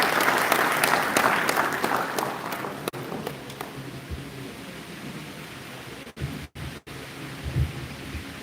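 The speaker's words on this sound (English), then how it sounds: "Please, a round of applause." An audience at an agricultural census closing ceremony in The Gambia claps in a dense burst of applause that gradually thins and fades over several seconds, leaving quiet room noise and a few scattered knocks afterward.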